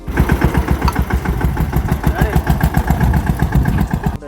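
Tractor engine running in a field during pesticide spraying, a loud, close, rhythmic diesel chugging with steady rapid pulses throughout, likely with voices underneath.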